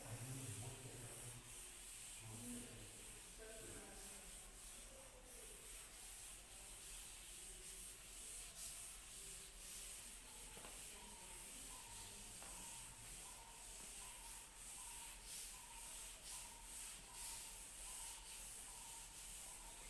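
An eraser rubs steadily across a classroom board, a soft continuous scrubbing that sits faint and low the whole time, with no voices.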